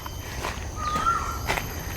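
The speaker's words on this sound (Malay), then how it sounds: "Masya Allah, bunyi burung." Birds calling in a forested city park: a single clear, drawn-out whistled call with a softer trailing note, heard against quiet outdoor ambience and a few rustling steps.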